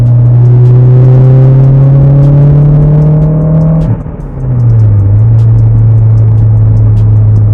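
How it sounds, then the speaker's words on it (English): A Toyota 3SGTE turbo engine without a blow-off valve runs loud and close, holding a steady drone that dips briefly as the throttle lifts, with a fluttering chatter at the lift-off before the tone settles lower. "the air coming in and the air meeting each other going the opposite way are making that flutter noise that you hear"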